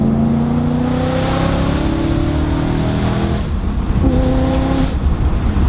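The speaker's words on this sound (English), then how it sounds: "Listen to that downshift." BMW E90 M3 with a loud aftermarket exhaust, revving hard then dropping through a downshift, a steady, loud, close engine roar with shifting pitch and a brief dip mid-rev.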